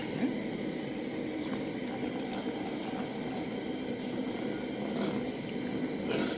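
Omena (sardine) soup heating in a pot while being stirred, a steady low bubbling and simmering wash with faint liquid movement throughout, no voices.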